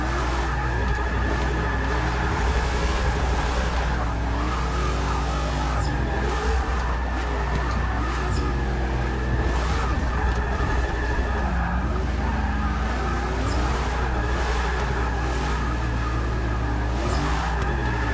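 A Hot Wheels Mustang with a V8 driving in Forza Motorsport 6, engine droning loud and steady throughout with shifting revs and tire squeal from drifting, close and continuous with no talk.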